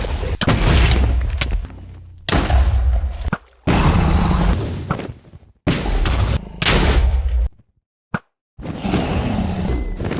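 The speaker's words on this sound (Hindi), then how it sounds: "एक-एक करके हम लोग एंड क्रिस्टल की फोड़ना स्टार्ट कर देते हैं।" End crystals blowing up one after another in Minecraft, loud booming blasts in long roaring bursts separated by short silent gaps, with no voices over them.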